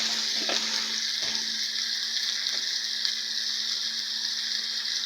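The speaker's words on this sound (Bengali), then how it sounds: "এগুলোকে দিয়ে এখন ভালো করে কষাতে হবে" Ginger-garlic paste with whole cumin, turmeric, chili and coriander powders fries in hot oil for a Pakistani-style dal, giving a close, steady sizzle throughout with a few faint stirring clicks.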